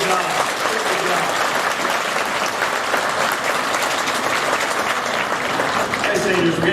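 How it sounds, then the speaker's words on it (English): Sustained applause from a graduation crowd for guest speakers, dense and steady at full volume for the whole stretch, with scattered voices blended into the clapping. "Let's give our guest speakers a big round of applause"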